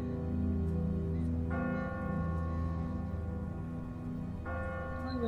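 A church bell in a video game bell tower tolls twice, each deep ringing stroke swelling and then decaying over a low steady hum, loud and slow, with no speech.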